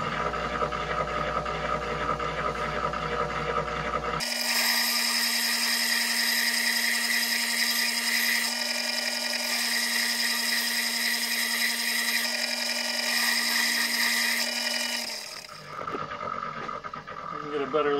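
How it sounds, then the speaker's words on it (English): A slow 8-inch whetstone grinder sharpens an axe, giving a steady sustained whine and grinding hum that runs for several seconds and then winds down, with a voice talking over it. "So I'm going to turn it on, and I've got an axe here I need to sharpen anyway"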